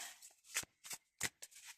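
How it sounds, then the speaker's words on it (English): A matte-finish tarot deck is shuffled by hand in short riffling bursts, four or five quick papery flutters with brief pauses between, close and fairly quiet. "I'll shuffle for a minute now, and then I'll pick one out."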